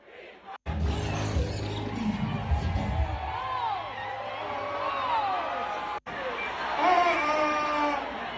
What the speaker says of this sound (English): Now here's a video of the crowd's reaction.